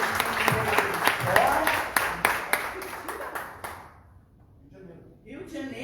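A church congregation claps together for about four seconds, loud and steady with sharp rhythmic beats, then the applause fades out into near silence.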